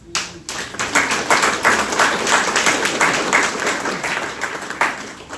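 Sustained round of applause from an audience at a public meeting where salaries were being approved, many hands clapping steadily and fairly loud for about five seconds with no talk over it.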